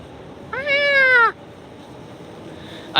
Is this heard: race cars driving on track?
no